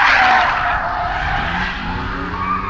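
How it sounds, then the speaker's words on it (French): Loud, continuous tire squeal from cars drifting at a drift park, a sustained screech with engine roar underneath that eases slightly over nearly three seconds. "Il y a des mecs qui font des glisses à côté."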